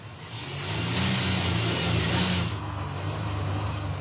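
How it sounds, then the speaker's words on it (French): A car engine idles steadily and close by, a low continuous hum with a slight swell partway through, heard with no talk just before the car is remotely immobilised and shut off by phone. "Comme vous l'entendez, la voiture fonctionne très bien."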